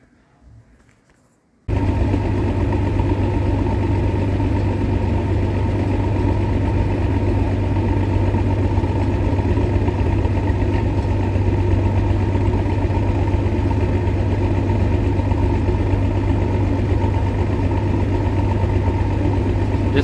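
A John Deere 9750 STS combine engine starts up and runs steadily, a loud constant low drone with a mechanical rattle, continuing unchanged after the first couple of seconds.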